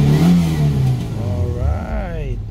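A Mitsubishi Lancer engine, just repaired of misfire and hesitation, revs loudly close by with a rising tone that then settles back, and a voice talks briefly over it.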